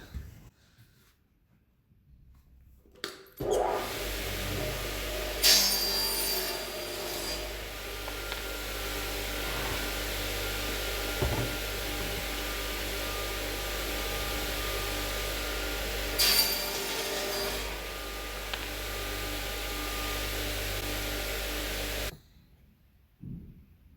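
A hand saw trims the horns of a replacement wooden sash window flat, cutting from both sides; a steady, continuous rasping runs for about twenty seconds with no talking.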